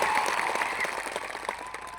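Audience at a political rally in Zankhvav, Gujarat, applauding: dense, steady clapping from a crowd fills the whole stretch at an even, moderately loud level, with no voices standing out.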